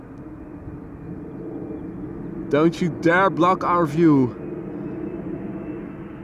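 An airplane at Schiphol Airport produces a steady, low, broad rumble throughout, moderately loud and somewhat distant, while a person speaks briefly midway.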